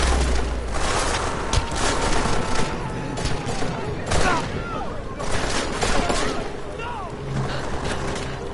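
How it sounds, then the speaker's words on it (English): Gunfire from the video game Deus Ex: Mankind Divided: a sustained barrage of rapid, overlapping shots and bursts, loud and dense, with voices talking throughout. "Who is shooting?"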